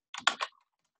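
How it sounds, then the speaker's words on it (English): A short burst of keystrokes on a computer keyboard, three quick clustered clicks close by, then quiet. "We can start typing in values here"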